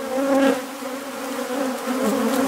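Dense, steady drone of honeybees buzzing around an open hive in Denmark, loud and close, with a sustained hum that swells slightly and never stops.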